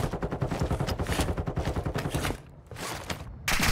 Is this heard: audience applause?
no